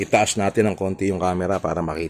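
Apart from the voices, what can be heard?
No distinct noise like a dog, phone or traffic.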